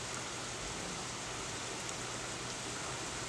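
Steady rain falls throughout, a dense, even hiss of drops on surfaces with no other sounds and no pauses.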